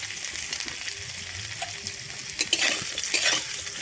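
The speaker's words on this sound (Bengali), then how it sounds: "আমি নারকেলটাকে ভেজে নেবো" Grated coconut fries in a pan, giving a soft steady sizzle with scraping stirring strokes and a few clinks of a utensil against the pan, close and without talk.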